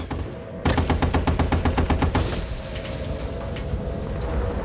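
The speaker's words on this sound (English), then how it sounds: "Machine guns." Machine gun fire in the Battlefield 1943 video game: a rapid, evenly spaced burst of shots lasting about a second and a half, loud and close, then fading into a rumbling battlefield background.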